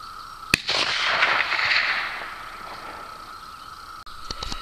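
A single sharp rifle shot from a Romanian AK with a brass deflector, firing a 160 grain cast spitzer bullet outdoors, followed by a long rolling echo that fades over several seconds.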